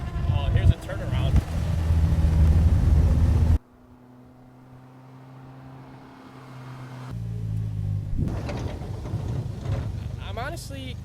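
A Polaris Slingshot SLR driven along a road in a Hawaiian storm, its engine droning loudly with road and wind roar, a brief quieter lull, then the engine building again.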